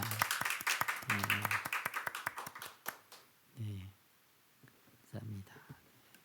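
A church congregation claps during a Sunday worship service, a quick burst of overlapping claps that dies out within about three seconds, followed by a few quiet voices and murmurs.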